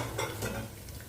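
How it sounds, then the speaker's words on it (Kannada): Mustard seeds drop into hot oil for a vegetable dish, giving a brief, close crackling sizzle with spattering pops over steady kitchen noise. "ಎಣ್ಣೆ ಕಾದೈತಿ, ಸೊ ಸಾಸಿವೆ ಹಾಕ್ತೀವಿ"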